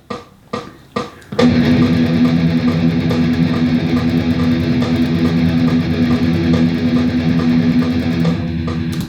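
Distorted metal electric guitar chugging steady sixteenth notes with reversed upstroke-first picking, a few muted stabs first, then a loud continuous palm-muted riff, no talking.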